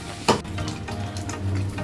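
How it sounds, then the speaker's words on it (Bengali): Prawns and onions frying in a wok (kadai) with a spatula stirring, a soft continuous sizzle punctuated by a sharp scrape near the start and light clinks of the utensil, heard close with no talking. "চিংড়ি আর পেঁয়াজ খুব সুন্দর ভাজা হয়ে গেছে।"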